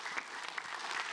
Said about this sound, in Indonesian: Tepuk tangan buat Ustadz Maulana